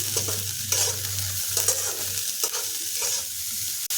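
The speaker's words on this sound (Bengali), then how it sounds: "মোচা ভাজতে ভাজতে দিয়ে দিচ্ছি পরিমাণ মতো হলুদ আর লবণ।" Chopped banana flower fries in a pan with turmeric and salt, a continuous close sizzle with rhythmic spatula scraping and stirring strokes, no voices.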